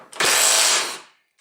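A Bosch 12-volt 3/8-inch impact wrench fires a single loud, dense burst of about a second that cuts off sharply, with a faint mechanical click just after.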